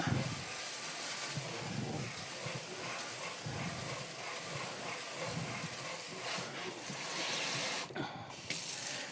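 Tap water runs into a freshly washed kitchen sink to wet a basket, a steady, fairly loud gushing stream that continues throughout with only brief shifts in flow.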